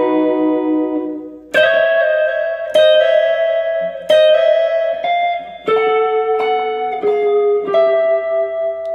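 Electric guitar plays a chromatic walk down from a solo: a sequence of picked, sustained notes stepping downward one by one, each ringing with tone effects, close and clear with no talking.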